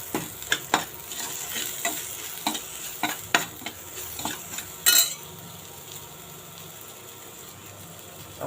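Green chilli with chaat masala and turmeric is stirred in a pan for Punjabi samosa filling, with a spatula scraping and clinking against the metal repeatedly over a low sizzle and one sharper clatter midway.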